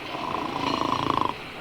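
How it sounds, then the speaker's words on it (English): A snoring sound effect in a radio story: one drawn-out, rasping snore whose rhythmic flutter speeds up and grows louder before stopping abruptly, with no talk. "He fell so fast asleep that he snored."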